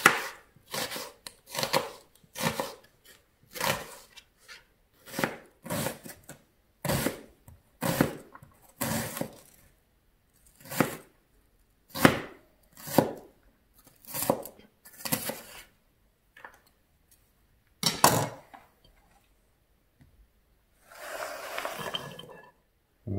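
A kitchen knife chops onions finely on a board, producing a series of sharp, close taps in short bursts with brief pauses between them, then a final scraping shuffle near the end.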